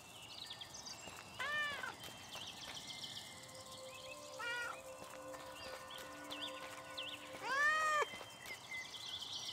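Cat meowing in the video game Little Misfortune, several short rising-falling meows spaced across the scene over soft ambient game music, moderately close and clear.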